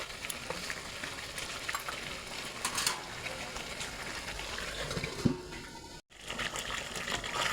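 Curry sizzling steadily in a pan after a little water is added, a continuous close frying hiss with bubbling and a brief stir clink, a voice talking faintly over it.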